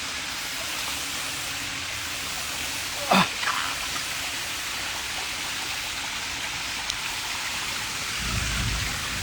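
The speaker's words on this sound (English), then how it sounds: "Oh, the rain's getting harder." Steady rain falls outdoors near a garden pond habitat, a broad even hiss with a brief sharp knock around the middle and a low rumble near the end; no talking.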